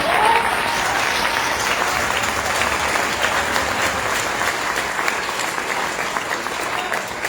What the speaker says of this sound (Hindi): ताली तो कई बार डालो यार, ये आपके लीडर है